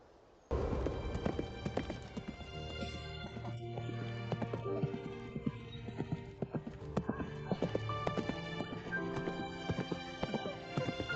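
Horse hooves clip-clopping in a steady, close rhythm on a hard surface, with a neigh or whinny rising partway through and faint voices underneath.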